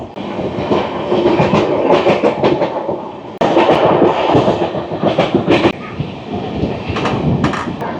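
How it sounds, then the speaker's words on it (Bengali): The Howrah–New Delhi Rajdhani Express runs on the rails, heard from inside the train as a loud, continuous rumble with rhythmic clickety-clack over the joints, steady throughout. "এই যে আমাদের ট্রেন বালি থেকে আগে আলাদা হয়ে যাচ্ছে"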